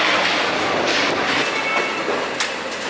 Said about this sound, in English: It is a 45-minute metro ride away